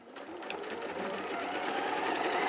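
A sewing machine chain stitches two pieces of fabric together, its fast, even mechanical whir running steadily and close, building slightly in loudness toward the end.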